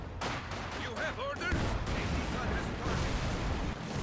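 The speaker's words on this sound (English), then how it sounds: "Bang. One shot, one kill, pretty much." A single rifle shot in the World War II strategy game Company of Heroes 2 cracks loudly against a constant roar of battlefield rumble and distant gunfire, with someone talking over the din.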